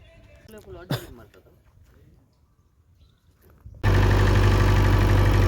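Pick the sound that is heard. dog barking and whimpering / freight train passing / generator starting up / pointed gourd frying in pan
generator starting up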